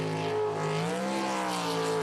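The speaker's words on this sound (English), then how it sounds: "If you love the sound of a high-winding small block Chevrolet" A high-winding small block Chevrolet race car engine screams at steady high revs, its strong harmonic whine sustained, close and loud, with a slight pitch dip and recovery midway.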